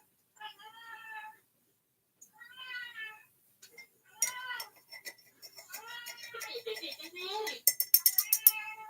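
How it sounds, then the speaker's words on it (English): Several short meows with clear harmonic tone, spaced apart and rising in pitch, joined later by clinking dishes and brief voices nearby. "That sounds like a fake meow."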